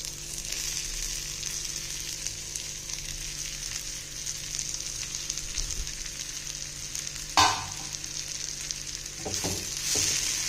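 Sliced onion is added to dried anchovies (nethili karuvadu) frying in oil and spices, giving a steady close sizzle with occasional stirring scrapes and a sharp clatter partway through.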